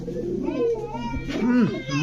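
A green-neck Budapest pigeon cooing nearby, two rolling throaty coos with a rising-falling contour, heard over background chatter and voices at a pigeon sale.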